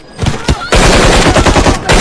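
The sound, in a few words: machine gun gunfire sound effect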